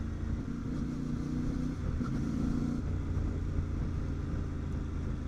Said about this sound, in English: This is the standard exhaust, and it's absolutely mesmerising as this sound.